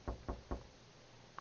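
In the video game Coromon, three sharp knocks land on a door in quick, even succession, close and crisp, followed by a faint single tick.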